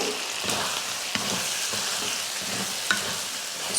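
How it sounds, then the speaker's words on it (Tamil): Mutton fry with pepper powder, coriander leaves and curry leaves sizzles in a pan as it is mixed, a constant close crackle punctuated by spoon scrapes and taps. "மிளகுத்தூள் போட்டுட்டு கொஞ்சம் மல்லித்தலை, கொஞ்சம் கருவேப்பிலை போட்டு கலந்து விட்டுருவோம்"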